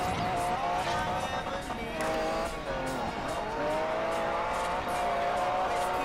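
A new rear-wheel-drive car racing in Forza Horizon on Xbox One, its engine revving and whining continuously with shifting pitch and tire squeal, loud and steady throughout.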